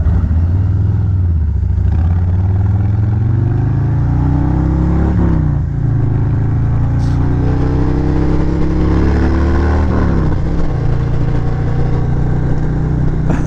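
Harley-Davidson Road Glide engine burbling and rumbling as it decelerates under engine braking, a steady close low-pitched drone with shifting tone across the whole stretch and no talk.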